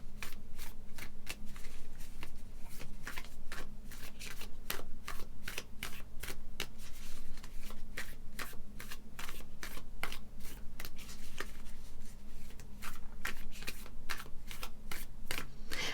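Tarot cards being shuffled by hand give a steady run of crisp, papery riffles and flicks, close and continuous for the whole stretch with no talking.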